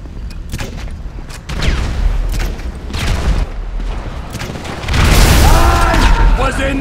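Tank cannon blasts and explosions in the video game GTA V, deep booming hits with rumbling tails and a big blast near the end, loud, with someone talking over them.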